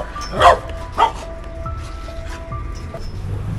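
A dog barks twice in quick succession, close and loud, during a delivery driver's stop, with quieter whimpering noises and faint background sounds afterward.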